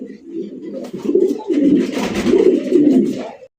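Pigeons at a farm coo close by, with several low, throaty, rolling coos following one another over a few seconds.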